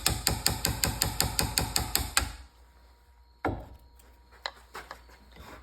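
Mallet strikes on a chisel carving the handle and arrow rest of a wooden self bow, about a dozen quick, evenly spaced sharp knocks close up, then a pause and a few lighter taps and scrapes.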